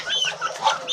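Backyard chickens and young stag chicks clucking and chirping in quick, overlapping bursts close by, a busy steady chatter across the whole moment with no talking.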